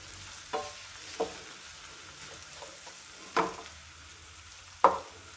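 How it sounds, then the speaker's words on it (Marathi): Chopped vegetables fry quietly in a pan for macaroni pasta, giving a faint, continuous sizzle broken by a few sharp clicks from a stirring spoon. "आता छानपैकी याला पण थोडं 1-2 मिनटं आपण फ्राय करून घेऊया"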